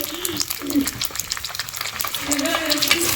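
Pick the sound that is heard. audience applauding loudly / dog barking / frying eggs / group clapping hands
frying eggs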